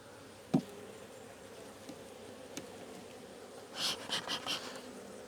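Honeybees in an open hive colony buzz in a brief cluster of hums near the end, following a faint background and an earlier single sharp knock.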